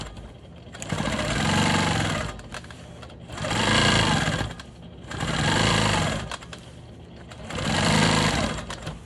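A sewing machine stitches ruler-work quilting along a triangle on a star quilt block, running in four loud bursts of a few seconds each with short pauses between, close up and without talk.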